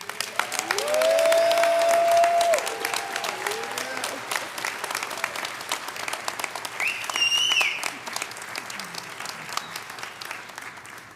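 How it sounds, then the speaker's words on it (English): Sustained audience applause at the investiture ceremony of Maurice D. Edington, Ph.D., as UDC president, a dense crowd clapping steadily for about ten seconds with a few high whistles or cheers rising above it. "May we please offer President Edington another round of applause?"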